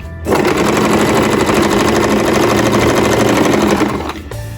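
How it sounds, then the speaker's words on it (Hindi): A sewing machine stitching a straight seam along a joint of a belted shalwar, a loud, fast, even mechanical rattle that runs for about four seconds and then stops. "और ये इस जोड़ के साथ मिलाकर मैं सीधी सिलाई ले जाऊंगी।"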